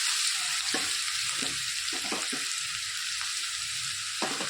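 Onion, garlic and cumin frying in a pan, a constant bright hiss of sizzling oil with a few soft stirring knocks underneath, no voices.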